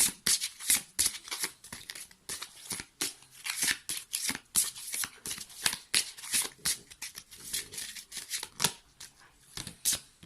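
A deck of positive-thought cards is shuffled by hand, with rapid, crisp riffling and slapping of card edges in quick repeated bursts, close and dry, with no talking.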